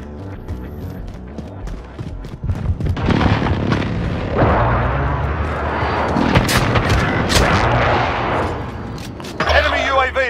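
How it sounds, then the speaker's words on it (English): Precision airstrike explosions in Call of Duty: Modern Warfare, a run of loud booming blasts and crackling gunfire that swells midway and rolls on, with voice callouts over the din. "Precision airstrike, take cover!"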